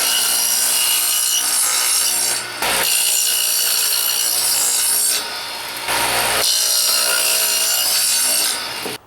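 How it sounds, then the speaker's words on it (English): A power saw cuts dadoes into wooden end pieces, a loud, steady whining rasp in three long passes. Each pass is separated by a brief dip as the blade clears the wood, and no voices are heard. "I got my saw set up to dado these ends."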